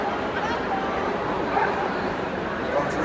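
Dog barks and yips ring out during a Crufts display, short and scattered under a dense hall crowd murmur while people talk nearby.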